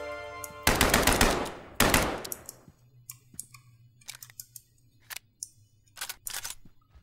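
Rapid automatic machine gun bursts from the video game Kill It With Fire, two loud sustained volleys followed by sparse sharp single clicks and shots, close and dry with no voices.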